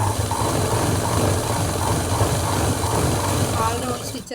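A sewing machine stitching cloth, a fast steady mechanical chatter of the needle and feed running continuously close up, slowing briefly near the end.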